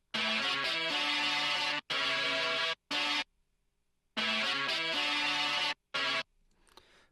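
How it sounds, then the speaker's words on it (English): Brass arrangement played on Mellotron tape sounds, bright sustained chords in short phrases separated by gaps of silence, with a second run of chords after a pause. "but done with Mellotron tape bakes, and those sound like this."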